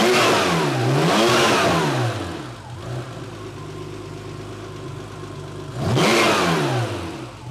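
Porsche 911 3.2L engine revved twice with a pause between, each rev climbing sharply and falling back, separated by a steady idle in the middle; loud and close with no talking.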